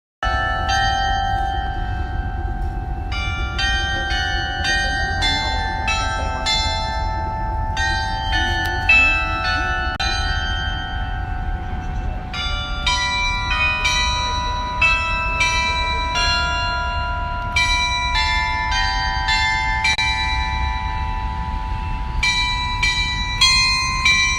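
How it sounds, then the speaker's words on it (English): Carillon bells in Bicentennial Park ring out an hourly melody, a steady sequence of clear struck tones with long overlapping sustains, carried over a constant low background rumble and no talking. "they have all these bells and they do songs like every hour on the hour"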